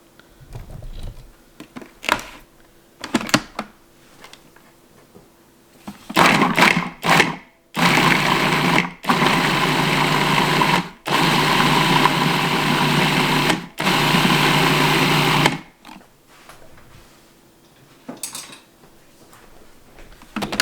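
A kitchen food processor pulses chopped vegetables for homemade kimchi in several loud, steady whirring bursts a few seconds long, separated by brief pauses and lighter clatter, with no talk.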